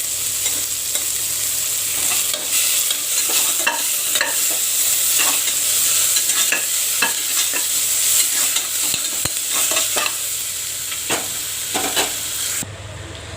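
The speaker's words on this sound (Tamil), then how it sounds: "ஃபஸ்ட்டு நான் கொஞ்சம் ஆனியனை ஃப்ரை பண்ணி வச்சுக்க போகிறேன் ஆயிலில் போட்டு" Onions fry in oil in a pressure cooker for egg biryani, a loud continuous sizzle close by, punctuated by repeated spoon scrapes as they are stirred, cutting off near the end.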